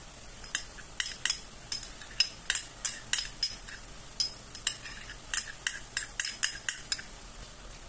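Metal spoon scraping and clinking against a pan while stirring crushed garlic and onion, steady irregular taps and clanks close up, with a faint low sizzle underneath and no talking.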